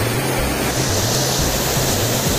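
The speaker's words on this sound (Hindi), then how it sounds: "50 फुट गहरा नीचे झरना है ये।" Constant broadband rush of falling water, dense and steady like a nearby 50-foot waterfall near Shimla, India, filling the whole clip without pause or voices.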